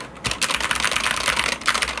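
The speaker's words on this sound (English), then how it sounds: "so you could hear every clickety clack on this thing" Fast, steady keystrokes rattle on a Steelseries Apex Pro TKL gaming keyboard, a close, busy clacking run with low background hum and no voices.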